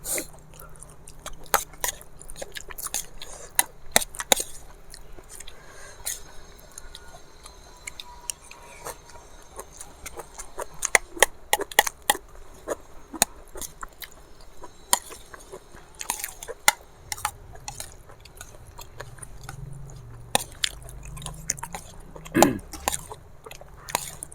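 Chewing and biting while eating a Thai dish of curried flat beans, with close, irregular crunchy and wet mouth sounds repeating throughout, alone and without talk.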